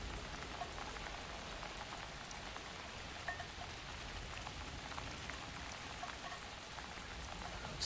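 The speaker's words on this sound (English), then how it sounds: "I think there's more rain than there was before" Steady rain pours in Alan Wake 2, a dense, continuous hiss of drops on surfaces that stays even and close for the whole stretch, with no voices.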